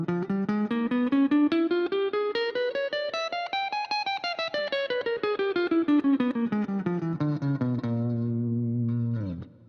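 Half-whole diminished scale played on electric guitar, rising note by note then descending, each pitch distinct and evenly spaced, ending on a sustained low note with no talking.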